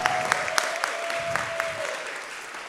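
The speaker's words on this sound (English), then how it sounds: "Please stand up. This is your applause." Audience at a hackathon's final presentations clapping for named team members, a steady patter of applause throughout, with a few sharper claps standing out.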